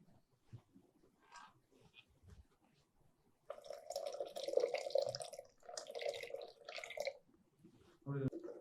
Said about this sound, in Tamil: கொஞ்சம் கெட்டியாக இருக்குது அதனால் கொஞ்சம் தண்ணி ஊற்றிக்கலாம்